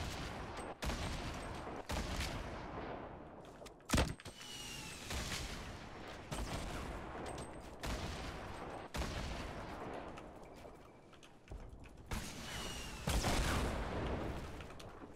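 A grenade launcher fires in the video game Fortnite, a string of sharp game explosions and booms spaced a second or two apart over fifteen seconds, fairly quiet overall with no talk.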